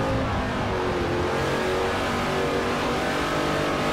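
A Holden Commodore V8 race car in Forza Motorsport 4 roars at high revs during an Aussie V8 speed event, a loud, sustained engine howl with shifting harmonics and no talk.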